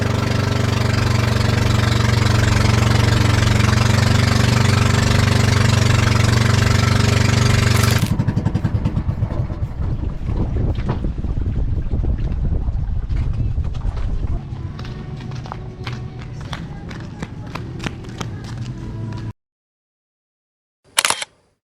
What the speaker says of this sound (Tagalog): nakarating na rin kami sa aming sasakyang bangka